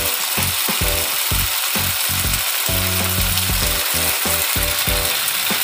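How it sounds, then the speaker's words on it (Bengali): Spice masala for aloo dum sizzles loudly in hot oil, a constant crackling hiss broken by rhythmic scraping and clattering strokes of a spatula stirring the pan, close and without talk. "আমি মশলাটা ভালোভাবে কষিয়ে নেব"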